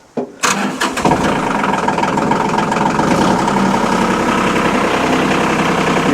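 Diesel tractor engine cranking and catching after glow-plug warm-up, a brief starter churn that quickly settles into a loud, steady, close-up idle.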